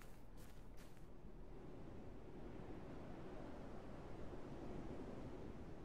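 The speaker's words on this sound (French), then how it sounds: "Je pense que ça va être du vent." Steady low wind in the video game Infestation: Survivor Stories roars on without a break, a faint, even rush with a couple of soft higher whooshes at the very start.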